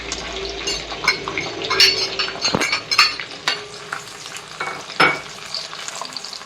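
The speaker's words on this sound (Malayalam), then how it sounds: "വെളുത്തുള്ളി ഇട്ടതിന് ശേഷം അതൊരു ഗോൾഡൻ ബ്രൗൺ ആകുന്ന വരെ നമ്മളത് വഴറ്റി കൊടുക്കണം" Halved garlic cloves fry and are stirred in a pan while making pickle, a steady crackling sizzle broken by sharp scraping strokes of a spoon against the pan, close up with no talking.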